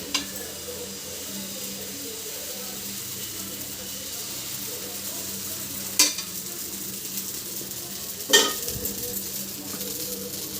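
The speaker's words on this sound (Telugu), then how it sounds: "చక్కగా అలా కాలుతుంది దోశ" Rava dosa batter crisping on a hot griddle, a steady even sizzle throughout with two brief sharp clinks of a utensil against the pan.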